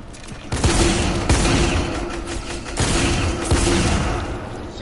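Shotgun fire in a video game: a few loud, sharp blasts spaced about a second apart, each with a short booming decay, over a low background.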